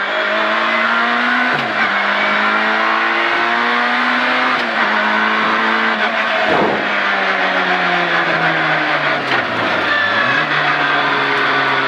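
Rally car at full throttle on a timed special stage, the engine roaring loud and close through repeated rising revs with brief dips between gear changes, no talk over it.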